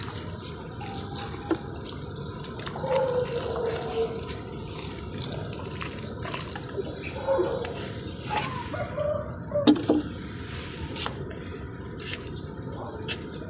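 Water is poured onto a terrace garden plant, giving soft irregular splashes and trickles close by, with a few louder drips and faint birdsong in the background.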